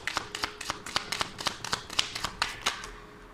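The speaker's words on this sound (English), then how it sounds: "I'll just shuffle again because I didn't feel that" A deck of tarot cards is shuffled in quick bursts, riffles and taps repeating rhythmically about every quarter second, close and crisp.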